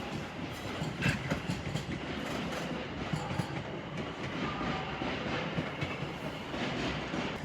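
A Class 710 electric train pulls out of London Euston on a snowy day, a low rolling rumble with clickety-clack wheel beats and brief squeals, heard from the platform at moderate distance with no talking.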